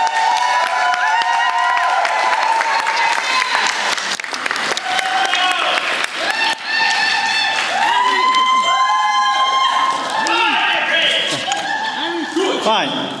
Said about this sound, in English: big round of applause for the father of the bride, Jeff